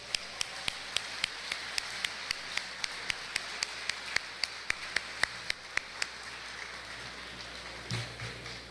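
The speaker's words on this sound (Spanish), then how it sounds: "Un aplauso para ellos" Audience applause at a university lecture on electoral parity at the Universidad Popular de la Chontalpa, a steady patter of clapping through most of the span, thinning out toward the end.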